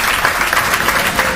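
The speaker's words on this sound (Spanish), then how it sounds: "Recibimos con un fuerte aplauso a Patricia Robledo Ceinos y también José Feliciano Borrego" A brief, dense burst of audience clapping at a talk on communicating with children and adolescents welcomes the guest speakers, a steady crowd wash without pauses.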